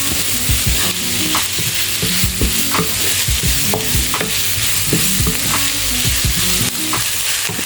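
Onions and curry leaves sauté steadily in a pan for prawn rice, a continuous loud sizzle broken by repeated scraping and stirring knocks, with no voices.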